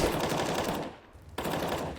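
Rapid automatic gunfire in CS:GO at a pro esports match, two close bursts of fast, hard shots separated by a short lull.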